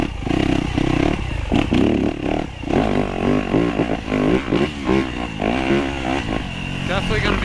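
A dirt bike races a hare scramble in the woods, its engine loud and close, revving and bogging in rough, choppy surges as the throttle rises and falls.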